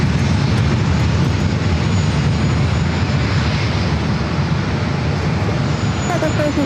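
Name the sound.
Air Canada Airbus A220-300 jetliner taking off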